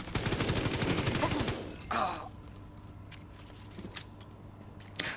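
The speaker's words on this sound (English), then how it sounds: "Put my turret up front and just follow it up with some shooting." Rapid turret and player gunfire in a video game rattles loudly for about a second and a half, then gives way to a thump and scattered quieter clicks and shots.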